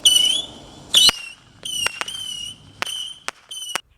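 Consumer fireworks going off at a safe distance: shrill whistling shells and a run of sharp cracks and bangs, loud and close, several separate reports over a few seconds with no talk.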